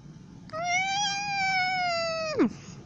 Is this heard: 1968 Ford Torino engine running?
no